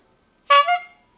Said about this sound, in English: Honk means stop.